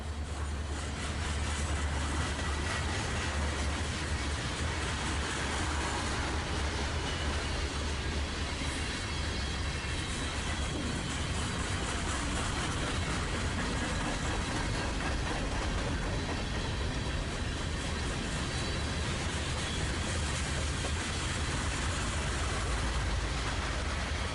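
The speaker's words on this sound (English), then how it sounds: "an SD40-2 pulls a shorter freight train with a high hood Jeep." An SD40-2 locomotive pulls a short freight train with a high hood Jeep on the Norfolk Southern Lehigh Line, a continuous loud rumble and rattle of wheels and cars rolling past.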